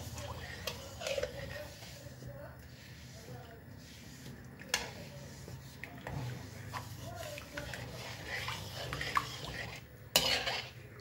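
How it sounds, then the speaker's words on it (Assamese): Jaggery melts in a wok as it is stirred in a home kitchen, soft scraping and clinking of a utensil against the pan, quiet and close, with scattered taps. "খালি লৰাই থাকিব লাগিব, কাৰণ লৰাই নাথাকিলে কেৰাহীত লাগি যোৱা চান্স থাকে।"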